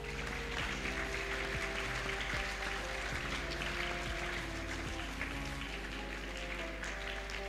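An audience of students at a school Ramadan program claps in a steady, dense patter for several seconds. The applause sounds fairly distant and stays even in loudness throughout, with no talking.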